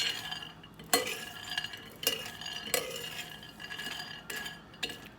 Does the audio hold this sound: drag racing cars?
no